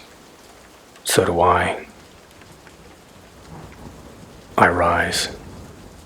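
A thunderstorm with a steady hiss of rain and a low rumble of thunder throughout. A voice speaks briefly twice over the storm.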